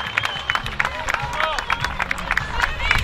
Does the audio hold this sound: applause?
yes